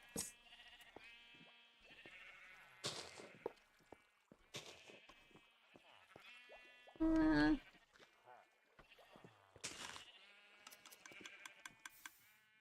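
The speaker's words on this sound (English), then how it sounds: "This sheep's so noisy." Repeated sheep bleats, some loud and close, mixed with sounds of the video game Foundation and a quiet voice talking in between.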